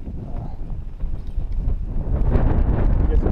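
Gusty wind buffets the microphone in low rumbling bursts that grow stronger toward the end, with no voices.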